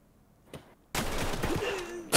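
In a video game, after a faint thump and near silence, a sudden burst of gunfire erupts and rattles on, followed by another sharp loud blast at the end.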